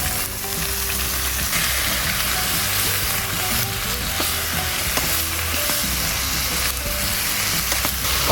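Beef tenderloin frying in a hot pan, a loud dense continuous sizzle with stirring scrapes and occasional ticks, close and steady throughout with no talk.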